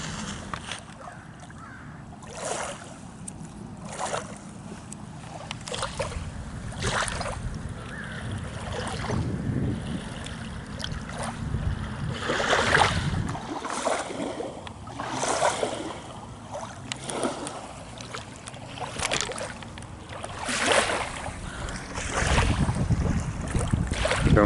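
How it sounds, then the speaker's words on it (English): Wind-driven waves wash steadily onto the shore beside a tailings mound, a continuous roar of surf and gusting wind buffeting the microphone, with surges swelling and fading throughout and no talk. "Almost just let the waves do all the talking on a day like this."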